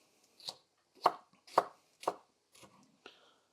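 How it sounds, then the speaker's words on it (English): A sharp knife chopping pepper or tomato on a board, six crisp separate cuts at roughly half-second intervals, close and fairly quiet, the last two softer. "you'll know how good a knife is by how easily it cuts through a pepper or a tomato"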